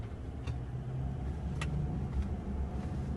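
A steady, low engine drone from a 2019-20 Toyota Land Cruiser V8 turbo diesel being driven, holding an even rumble throughout with a couple of faint ticks.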